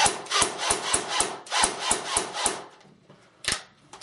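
A quick run of about nine sharp, snapping shots from a CYMA CM028U AK47 RIS airsoft rifle on single fire, in close, regular succession, then a pause and one more shot.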